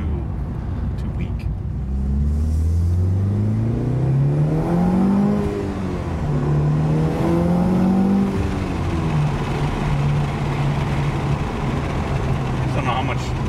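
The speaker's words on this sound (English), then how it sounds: "It adds a little amplitude to the regular sound of the car, but it's too weak." A Mitsubishi Evo 8 fitted with an aftermarket TOMEI or HKS exhaust revs up and settles, its engine note rising and falling twice before holding a steady idle-like drone, with speech over the top.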